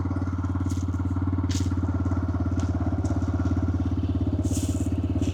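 A 125cc TVS Raider motorcycle engine idles steadily after starting, with a low, even throb, running on alone with faint clicks and no speech over it.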